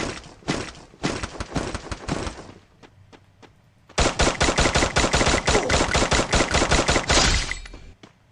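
Rapid bursts of gunfire in the Free Fire game, with several short volleys, a few isolated shots, then one long sustained automatic burst, loud and close.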